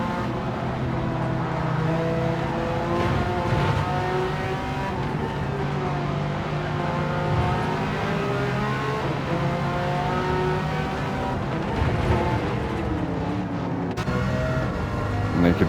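Gran Turismo 7 race cars in a GT2 endurance race braking hard into the corkscrew and accelerating out, a loud continuous engine drone with shifting revs and downshifts, several cars close together, brief tire squeal.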